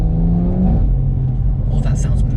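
A BMW M140i with an xHP Stage 3 gearbox flash idles and revs nearby, a loud low engine rumble with a brief rising rev note, while people talk over it.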